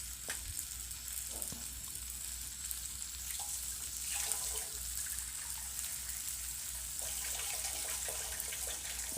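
Water goes into a hot pan of chicken tikka gravy with fresh cream, giving a soft continuous hiss and sizzle with a few small clinks, quiet and close.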